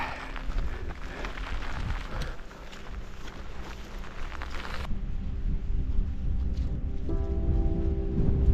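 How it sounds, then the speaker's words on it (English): Rain falling outdoors on a saturated fell landscape near mountain tarns, a steady hiss of rainfall with wind rumble and a few sharper drops, fairly loud and continuous, no talking. "Rain's on again."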